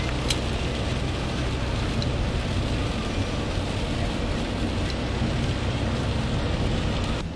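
Steady rain falls in a dense, even hiss with a low rumbling undertone, constant throughout and fairly close, in the mountains at Canmore, Alberta.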